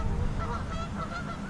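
A close burst of Canada geese honking, several overlapping calls in quick succession, outdoors while bass fishing on murky water.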